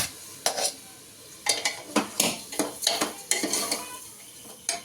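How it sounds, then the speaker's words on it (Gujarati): A spoon scrapes and clacks against a metal pot in quick irregular strokes while stirring gravy for khichdi, with a faint sizzle underneath and no talking. "ગ્રેવીને હલાવી દો. આ રીતે કંઈ ગ્રેવી થાય છે."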